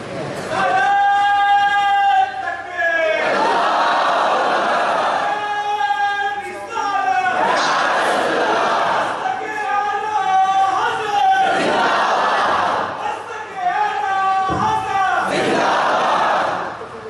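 A large crowd at a religious gathering commemorating the martyrs of Karbala in Seloo, Wardha, Maharashtra chants slogans in loud, sustained unison bursts, with short pauses between each call and response.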